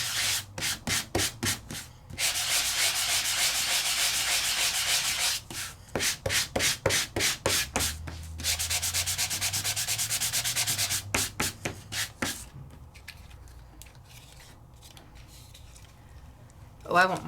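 Hand sanding of a Sizzix craft die cut, with bursts of quick rhythmic back-and-forth scratchy strokes alternating with longer continuous rubbing passages, close and loud, ending in a few scattered strokes.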